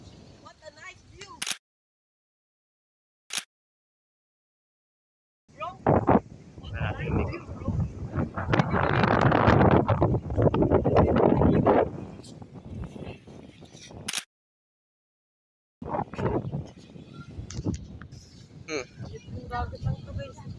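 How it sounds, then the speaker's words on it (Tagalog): Wind gusts and surf at a free beach in Marinduque roar loudly, cutting in and out with sudden gaps of near-silence and sharp buffeting bursts against the microphone. "Yung dagat lang ito, guys."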